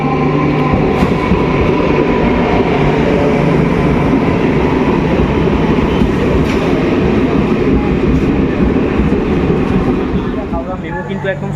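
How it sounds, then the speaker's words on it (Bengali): A MEMU local passenger train from Purulia to Howrah rolls into a platform at Bankura, its loud, steady rumble carrying clickety-clack wheel noise and faint squeals before easing slightly at the end. "দেখো আমাদের ট্রেন ঢুকছে দু নম্বর প্ল্যাটফর্মে"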